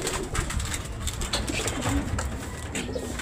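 Racing pigeons arriving at a loft during a first-lap derby race in Santiago, Isabela, cooing steadily and close by, with soft fluttering and a busy background hum; no talk.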